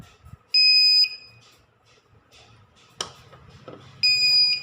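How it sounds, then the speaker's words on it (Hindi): A Luminous Eco Volt 1650VA 24V inverter with a faulty MOSFET beeps as it switches on: three loud, sharp electronic beeps about a second apart, with a clack and faint background noise between them. "तो ये जब ऑन होता है तो ये 4-5 बार बीप करता है।"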